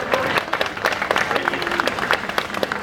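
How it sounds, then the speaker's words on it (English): A crowd applauds at an aquarium sea lion show, with brisk, scattered clapping at close range for a few seconds. Faint voices sound underneath. "Why don't we give trainer Billy a big round of applause for this trainer moment"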